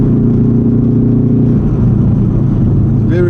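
Subaru STI V2 555 edition driving on an uphill road, a steady mid-pitched engine drone with a slight rise in revs near the end, heard from inside the car.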